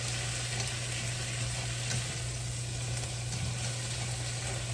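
Frozen green beans frying in bacon fat, a dense, steady sizzle and crackle close up throughout with faint stirring underneath.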